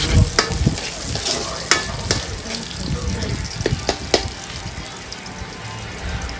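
Chopped garlic and onion sauté in a hot pan for a Filipino almondigas, crackling steadily with scrapes and taps of a stirring utensil, close and busy without pause.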